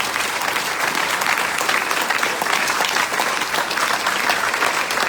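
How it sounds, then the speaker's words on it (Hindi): An audience at an RCM business seminar bursts into loud, continuous applause for Pooja Arora, a thick, even roar of clapping that holds at full strength without pause. "पूजा अरोड़ा ब्रिक के लिए एक जोरदार और शानदार ताली मैं चाहूंगा।"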